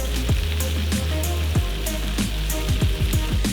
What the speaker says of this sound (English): since our shrimp is going on top of our pasta, for the aesthetic, we are going to sear it on both sides